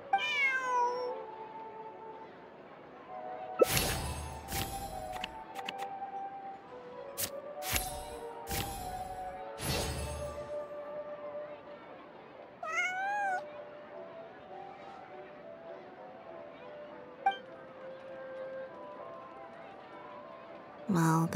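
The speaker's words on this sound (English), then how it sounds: "This is my friend's cat." A cat meows repeatedly in the video game Genshin Impact, rising and falling calls close by, with a few sharp thumps and bangs in between and soft background noise.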